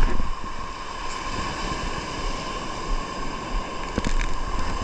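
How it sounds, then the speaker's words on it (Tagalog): Large ocean waves roll and crash on an island shore as a constant, loud wash of surf mixed with wind buffeting the microphone, with a slightly stronger burst near the end. "Sobrang laki ng alon."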